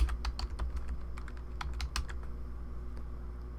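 Text being typed on a computer keyboard while setting a title in Photoshop: a quick, uneven run of crisp key clicks, close and clear, with no talking.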